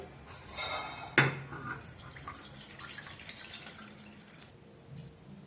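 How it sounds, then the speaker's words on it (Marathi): Toor dal washed with water in a metal pot, with clattering scrapes and knocks of the pot, a sharp clank early on, and gentle water swishing and dripping that fade toward the end. "आपण आता ही डाळ धुवून घेत आहोत।"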